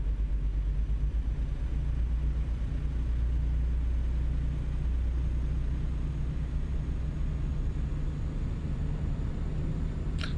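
A truck engine in American Truck Simulator, driving along as a steady low rumble and drone that holds unchanged and fills the whole stretch, with no talk over it.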